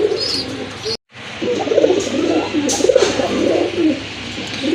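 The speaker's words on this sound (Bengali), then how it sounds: "মাশাআল্লাহ আরেক জোড়া কবুতর দেখেন, এটা হচ্ছে আপনার আকাশি কালারের ভিতরে রাজগোল্লা কবুতর" Rajgolla pigeons of sky-blue colouring coo repeatedly at close range, low throaty calls rising and falling in a steady stream, broken by a brief silent gap near the start, with faint chirps above.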